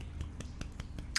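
Finger snaps imitate tiny applause: about six quick, sharp, faint clicks in a loose, even patter over about a second.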